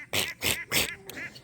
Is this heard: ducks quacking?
yes